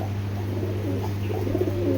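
Pigeons of a fancy Bangladeshi pet breed coo softly nearby, low throaty murmurs over a steady background hum, with no voices.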